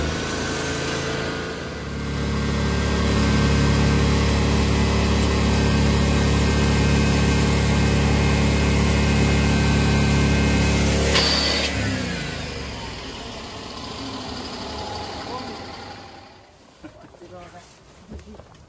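A forestry machine's engine runs loud and steady, holds a high sustained rev for several seconds, then drops away as it winds down, leaving quieter mechanical clatter at the end.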